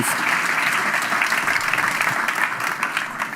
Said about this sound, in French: Merci Claire, on peut l'applaudir.